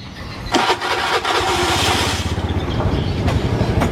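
A motorcycle engine cranks and catches during a fuel pump pressure test, first a burst of starter whirring, then a rapid, loud, close putter as it settles into running.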